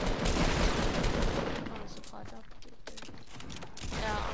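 Dense rapid gunfire in a 50 versus 50 online shooter game, loud overlapping bursts and shots that thin into scattered cracks, with players talking over it.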